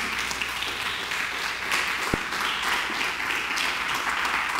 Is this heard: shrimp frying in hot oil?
no